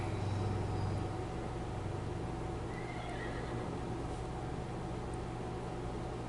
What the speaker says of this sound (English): you heard a horse in the background if you did hear it